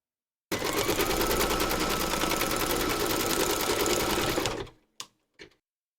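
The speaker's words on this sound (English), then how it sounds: "Pop your hoop into your machine and stitch round number 9 to secure it." Embroidery machine stitching a teddy bear's nose applique in a hoop, a fast steady mechanical rattle for about four seconds, then stopping with two short clicks.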